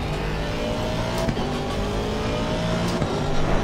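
A race car lapping in Assetto Corsa Competizione, a steady loud engine drone with held tones and brief dips at gear shifts, constant throughout with no talking.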